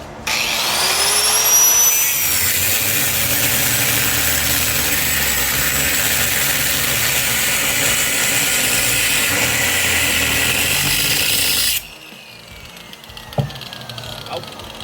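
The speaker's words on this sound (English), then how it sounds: "put a sanding disc on for the terrible welds we're about to make. I want to cut those off." An angle grinder fitted with a sanding disc grinds off rough welds on a Honda Navi exhaust slip-on, a loud steady abrasive whine lasting about twelve seconds before cutting out to quiet handling clatter.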